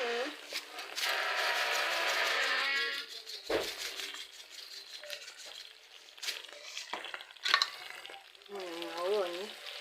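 Beans frying in oil crackle and hiss loudly at first, then give way to intermittent scraping and stirring clatter in the pot, with a brief voice-like tone near the end.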